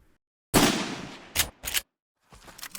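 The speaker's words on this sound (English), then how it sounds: "I started by finding normal gun sounds in my library of sound effects, then began layering sounds on top of the original layer." Punchy layered gunshot sound effects with boosted low end from EQ and bass enhancement: one long booming shot with a decaying tail, two quick sharp follow-up blasts, then a softer burst, loud and isolated against silence.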